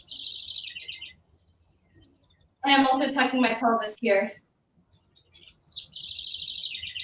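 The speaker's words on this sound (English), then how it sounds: "Can you hear these birds behind me? Oh my gosh, those birds are manic" Birds chirp outdoors in rapid, bright repeated trills, heard clearly at the start and end of the stretch, while someone talks in the middle.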